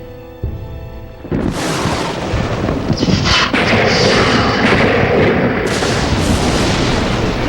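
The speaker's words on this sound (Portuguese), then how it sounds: "vaporizando a seiva e fazendo a casca explodir como uma granada" Tree bark bursts apart like a grenade from a lightning strike, a sudden loud crack and boom followed by a heavy sustained rumbling roar that stays loud to the end.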